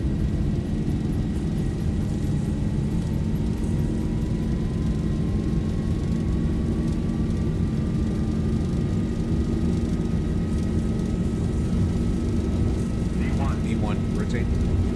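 Jet airliner engines spooled to full takeoff thrust in X-Plane 12, a steady, loud broadband roar with a sustained whine that slowly climbs in pitch, running continuously throughout with faint talk underneath.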